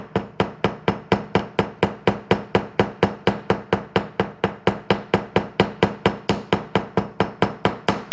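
A small hammer taps a wire-wrapped paddle earring to texture and harden the metal, about four sharp, bright metallic strikes per second in a steady, even rhythm, close and loud, with no voices.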